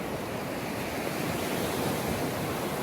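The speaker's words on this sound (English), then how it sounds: "waves as they roll in" Ocean waves rolling in on a sunny beach, a dense, steady roar of surf with breeze mixed in, heard alone and continuous without distinct breaks.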